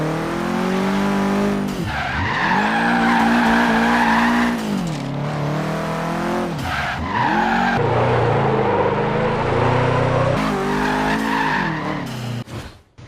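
A Subaru Impreza drifts in the racing game Forza Horizon 3, its engine droning loud and close as tires squeal and skid in long slides, revs dipping and climbing between drifts.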